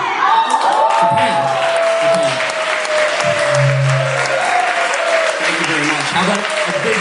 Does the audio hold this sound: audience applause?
yes